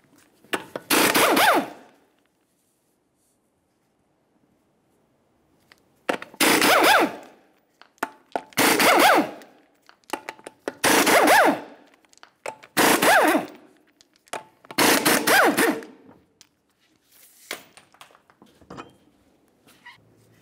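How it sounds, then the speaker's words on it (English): A power impact tool zips off the 19mm lug nuts on a Chevrolet Trailblazer wheel in several loud, close bursts of a second or so each, separated by silent gaps. "we'll continue on to removing the center cover, all 6 of our 19mm lug nuts"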